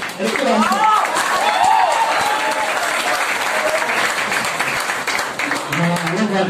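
Audience at an anniversary celebration party bursts into loud, sustained applause welcoming a speaker, dense clapping filling the room throughout, with voices and cheers mixed in.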